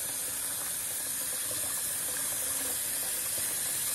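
Tap water runs steadily and close, a continuous broadband splash and gush into a sink while dreadlocks are washed, with no talk.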